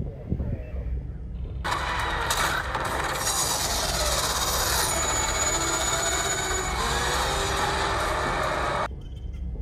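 A desert train rumbles and clatters in a fight scene from The Book of Boba Fett, a loud, dense roar that starts suddenly, holds for several seconds with metallic screeching, then cuts off, with voices at the edges.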